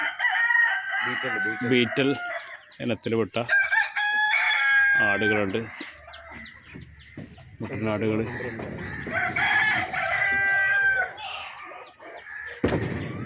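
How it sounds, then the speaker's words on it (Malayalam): Roosters at a farm sanctuary crow and cluck, some close and some further off. Someone speaks steadily over the birds throughout. "ഇവിടെ പൂവൻ കോഴികൾ, അങ്ങനെ പൂവൻ കോഴികളുടെ ഒരു സങ്കേതം തന്നെ ഉണ്ട്"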